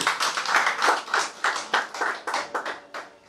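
A church congregation claps together during a sermon, a steady series of sharp, fairly loud hand claps at a quick, even rhythm with no voices over them.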